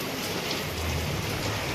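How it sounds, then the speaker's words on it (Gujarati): Steady, dense rain pours down with a constant hiss and patter, close and loud, with no voices. "આમ જો કેવો વરસાદ આવે, જો"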